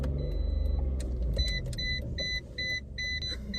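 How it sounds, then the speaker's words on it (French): A small car being parallel parked at night, with a steady low engine hum and repeated short electronic beeps from a parking sensor in the middle and toward the end. "Je vais faire un super créneau, tu vas voir."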